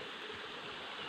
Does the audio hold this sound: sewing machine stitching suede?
no